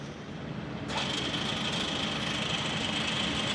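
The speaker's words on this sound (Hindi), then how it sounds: "right now the machine is working at its minimum speed" A Mecof 45 mm radial drilling machine with its spindle running at the minimum speed of 35 RPM gives a steady mechanical drone that steps up sharply into a brighter whine about a second in, then holds constant.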